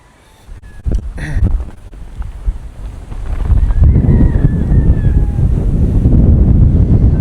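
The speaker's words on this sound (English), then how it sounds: "It is a windy day down here." Strong wind on a windy day outdoors, buffeting the microphone with a loud rushing roar that builds after a few seconds and stays steady, with faint rustling early on.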